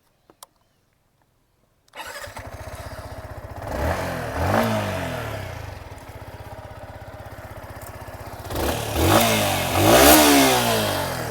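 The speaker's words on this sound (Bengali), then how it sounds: "এই বাইকটা যে এক্সস্টের সাউন্ড সেটা আমি আপনাদেরকে শুনিয়ে দিচ্ছি" A motorcycle engine, a 2026 Hero Xtreme 160R 4V or Yamaha XSR 155, starts up and idles with a throaty exhaust, then revs hard twice, rising and falling, close by.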